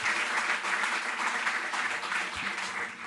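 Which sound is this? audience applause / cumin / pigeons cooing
audience applause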